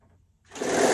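A sewing machine begins stitching after a near-silent half second, its motor and needle rising into a steady, fairly close whir that runs to the end.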